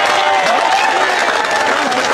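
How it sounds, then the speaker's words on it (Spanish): A crowd at a religious debate claps and cheers loudly, dense applause mixed with excited voices and chatter throughout. "Aplauso para Ramón."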